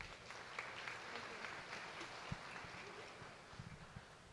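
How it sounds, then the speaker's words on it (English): Applause for a group of cheerleaders at a high school all-sports banquet, a faint, steady patter of many hands filling the room with a few sharper claps and thumps near the end. "One more round of applause for our cheerleaders"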